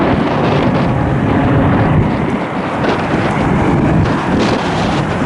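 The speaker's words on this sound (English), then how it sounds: "Oh, the wind's back." Wind buffeting a camcorder microphone outdoors at an airport during plane spotting, a loud, continuous low roaring rumble with gusty swells and no clear voices.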